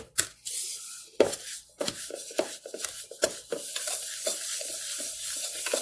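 Old-fashioned molasses cookie dough stirred by hand in a bowl: a close, steady run of scraping, squelching strokes, some sharper than others, repeating roughly twice a second with no talking.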